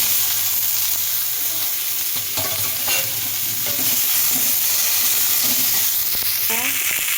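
Cauliflower, radish, potato and carrot sizzling in a pan, with a steady hiss of frying and intermittent scraping and stirring from a utensil, close up.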